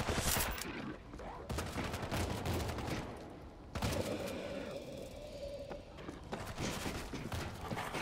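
Heavy machine gun firing in a World War Z zombie shooter on PS5, loud and sustained as dense rapid bursts fill the scene, with a brief break near the middle before the fire resumes.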